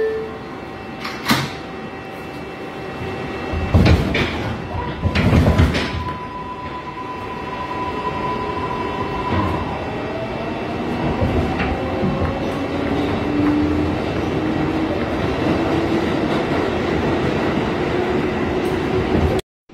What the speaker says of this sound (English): This is a Bronx-bound 6th local train.